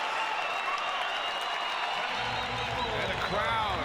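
Crowd applauding at a BYU versus San Diego college basketball game after a three-pointer and timeout, sustained arena clapping and cheering throughout, with a commentator talking over it.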